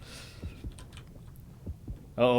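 Heartbeat in the horror game Depth: a faint, low double-thump pulse repeating steadily at a moderate pace, ending as a louder tonal sound cuts in.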